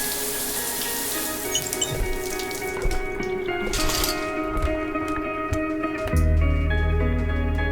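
Running water from a shower in a video game, a steady rushing hiss that holds through most of the stretch and then gives way to a louder low rumble near the end.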